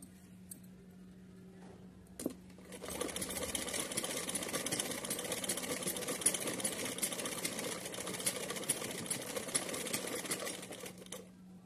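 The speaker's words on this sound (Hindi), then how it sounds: "चलिए यहाँ इस तरीके से पकड़ के सीधा सिल लेते हैं।" A sewing machine runs steadily while straight-stitching cotton cloth, a continuous close whirring hum with a light mechanical ticking rhythm that starts after a brief quiet lead-in and a single click.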